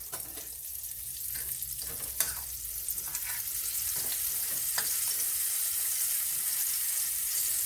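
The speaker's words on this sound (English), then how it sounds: "and then into the oil. Being careful, because that oil it's like deep frying pretty much." Battered green tomatoes deep frying in hot oil, with a steady bright sizzle and crackle throughout, broken by occasional pops and soft clinks.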